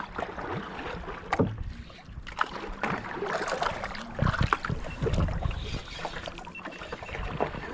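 A fishing boat powered by twin engines runs across open sea, giving a steady rushing drone mixed with water splash and gusts of wind on the microphone.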